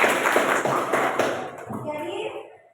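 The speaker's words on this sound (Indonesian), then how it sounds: "Berikan tepuk aplaus untuk kelompok 1." A classroom of students applauds one group, many hands clapping together in a dense burst that rings loudly at first and then tapers off to silence within a few seconds.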